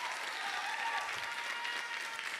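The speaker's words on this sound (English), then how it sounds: "Keep the applause going as we have them join us on the stage." A pageant crowd applauds as finals-night contestants join the stage, steady sustained clapping from many hands at moderate distance, continuing evenly throughout.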